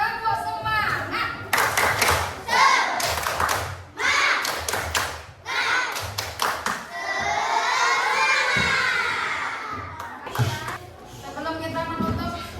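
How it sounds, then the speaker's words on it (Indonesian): Schoolchildren in a classroom clap out a rhythmic chant in bursts and shout along, then break into loud cheering, with claps and voices filling the room throughout. "Coba kita tepuk semangat dulu ya. Tepuk semangat."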